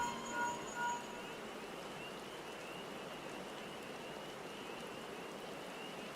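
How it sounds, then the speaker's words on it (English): Steady rain falls continuously in the video game Final Fantasy XIV: Dawntrail, a soft even hiss with no talking, ending on a brief click. "I do like that it's raining right now."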